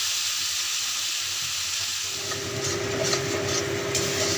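Cardamom, turmeric and Kashmiri chilli powder frying in hot oil left from frying rohu fish, a dense close sizzle that swells and crackles louder partway through, with no voices.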